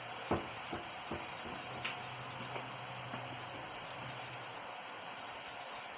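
Pork chops frying in an All-Clad frying pan, a soft steady sizzle and hiss with a few faint clicks and taps of utensils now and then, fairly quiet and close.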